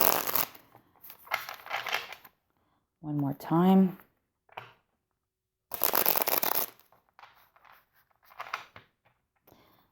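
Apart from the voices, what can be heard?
shuffling a deck of cards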